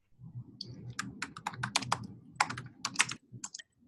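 Rapid clicking of keys on a computer keyboard during an online community call, a steady run of close, crisp taps in short bursts with brief pauses, over a faint low background hum.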